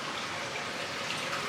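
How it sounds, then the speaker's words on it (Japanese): Water drips and trickles down steadily in a windy outdoor setting, a continuous wet wash of sound without talking. "なんかポタポタ落ちてきてるよ。"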